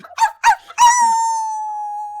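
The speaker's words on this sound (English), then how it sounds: "Missile the dog is in there." Missile the dog in Phoenix Wright: Ace Attorney gives a few short yips, then one long, sustained, steady high howl, clean and close.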